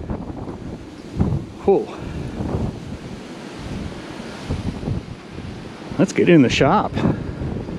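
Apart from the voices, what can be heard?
strong wind blowing outdoors by the sea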